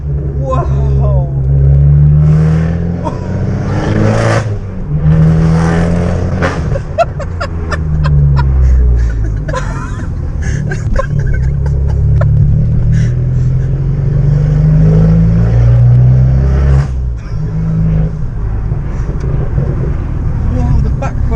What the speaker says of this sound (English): so you guys can see what a completely straight pipe decatted Bombardone exhaust sounds like